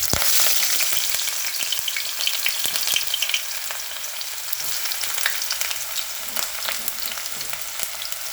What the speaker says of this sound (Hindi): ऑयल हमारा गर्म हो चुका है। सबसे पहले हम इसमें प्याज ऐड कर लेंगे।